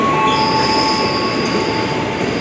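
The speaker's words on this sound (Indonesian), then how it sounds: "Oke, kita naik KRL Bogor Line ya." A KRL Bogor Line commuter train runs on the rails with steady loud rumble and sustained high-pitched wheel squeal, heard close with no voices.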